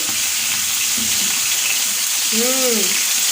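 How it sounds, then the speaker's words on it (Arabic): Alexandrian-style liver fries loudly in a pan with dense, steady sizzling as it is flipped, and a brief voice-like tone rises near the end. "نبتدي بقى نقلب يا جماعه عشان هي الكبده كده اخدت لون"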